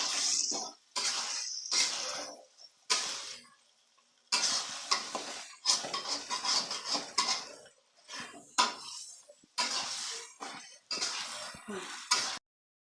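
Meat being stirred and sautéed in a pot for a grandmother's special pulao, with repeated scraping and clattering of a spoon against the pot in bursts separated by short pauses, close and fairly loud.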